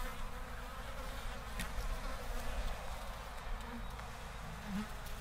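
Honeybees buzzing around an opened apiary hive during a spring inspection, a steady faint hum with occasional closer passes, no talking.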